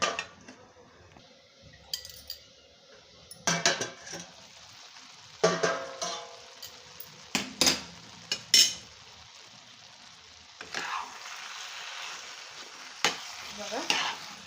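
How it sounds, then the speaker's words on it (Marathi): Carrot halwa (gajar halwa) stirred in a pan, intermittent scraping and clattering of a spoon against the metal with a faint sizzle between strokes, close and uneven in rhythm. "हलवून घेते"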